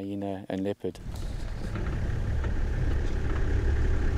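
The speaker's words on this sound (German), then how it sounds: "Der LKW mit den Antilopen ist am nächsten Morgen endlich am Ziel." A truck hauling antelopes in Mozambique rumbles along in a steady, loud engine drone after a brief burst of voices at the start.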